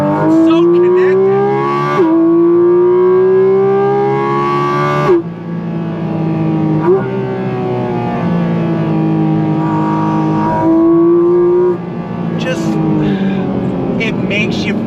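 A Porsche 718 Cayman GT4 RS mid-engine sports car revs hard through rising gear pulls, its loud, high, tonal engine note climbing, dropping sharply at shifts and easing off under braking, close and continuous.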